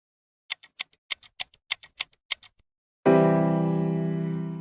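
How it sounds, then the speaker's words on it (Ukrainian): Around ten crisp, evenly spaced clock ticks sound close by, followed by a loud, sustained ringing chime that slowly fades, with no talking. "Наш годинник б'є ось так."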